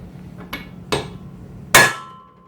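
Three sharp metal hammer strikes on a U-joint being driven into a driveshaft in a workshop, spaced unevenly and growing louder, the last blow ringing out before it fades.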